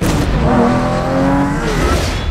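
A Lamborghini driving off in a film scene, a loud, sustained engine roar with rising tone as it pulls away, no voices.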